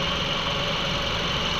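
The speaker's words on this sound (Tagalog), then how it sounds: "kaminor lang yung makina" Toyota Vios engine idling while it overheats and pushes coolant out of the radiator, giving a steady, close, even mechanical hum with no talk.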